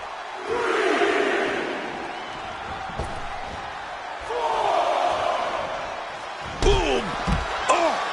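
Video game wrestling arena crowd from WWE 2K25, a broad roaring swell of cheering that rises and falls, punctuated by heavy slams and impacts, with commentators talking over it.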